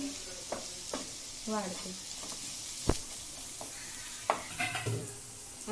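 Onion and spices sauté in oil for kurdai bhaji, sizzling softly up close while a spoon scrapes and stirs in irregular strokes. A voice speaks briefly.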